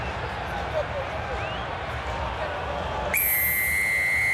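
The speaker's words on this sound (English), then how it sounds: "Shrill blast of the whistle, and we are underway at Twickenham." A crowd murmurs in Twickenham stadium at an England v Italy rugby match, then a shrill referee's whistle blast starting the match cuts in and holds steady to the end.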